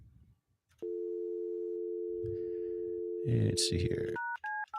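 A phone call is placed: a steady telephone tone holds for several seconds, then gives way to a few short, clipped dialing beeps, with someone briefly speaking before the tone begins.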